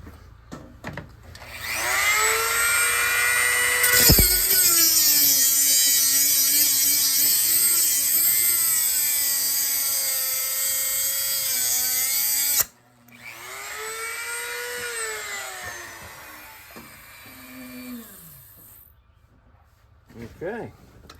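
Small 1.5 inch cutoff wheel cutting through an aluminium spacer for an RC car shell, a loud, close, sustained whine that dips in pitch under load, stops abruptly, then returns for a second shorter cut.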